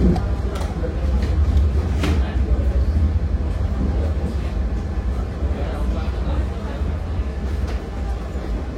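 A passenger train arrives at Gundi station in Indonesia with a steady, loud rumble of rolling carriages heard from inside, and faint voices briefly in the background.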